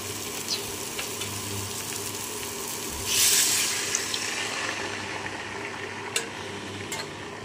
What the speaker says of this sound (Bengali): দিয়ে দিচ্ছি পরিমাণ মতন জল।